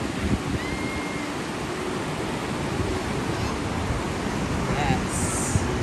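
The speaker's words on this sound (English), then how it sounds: "Look at the waves." Ocean waves at the beach in Wildwood, New Jersey wash in as a constant broad roar mixed with wind buffeting the microphone, steady and loud with no distinct breaks.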